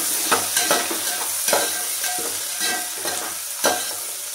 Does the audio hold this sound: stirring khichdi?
yes